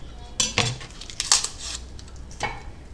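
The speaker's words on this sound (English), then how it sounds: "cut your onion in half" A kitchen knife slices an onion in half on a board, giving a few sharp chopping clicks and knocks against the surface, close and fairly quiet, spaced irregularly over a few seconds.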